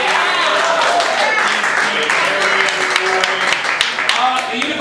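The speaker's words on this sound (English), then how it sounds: "Give yourselves a round of applause for supporting live comedy." Audience at a live comedy show in a small theater claps and cheers, loud and continuous, with a voice speaking over the applause.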